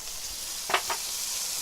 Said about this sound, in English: start frying the broccoli stems.